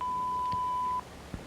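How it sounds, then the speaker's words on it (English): An answering machine gives a single steady electronic beep lasting about a second before cutting off, followed by faint room noise and a soft click, with no voices. "Please leave your name and phone number after the beep."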